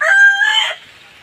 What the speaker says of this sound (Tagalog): Shout out sa mga manok ng kapitbahay.